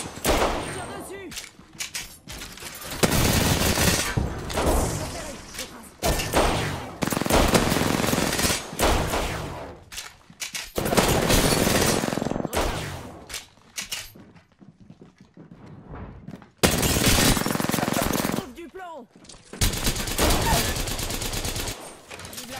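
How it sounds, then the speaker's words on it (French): Gunfire in the battle royale game Apex Legends comes in loud repeated automatic bursts separated by short pauses, close and punchy, with occasional voices speaking between volleys. "Je tire dessus."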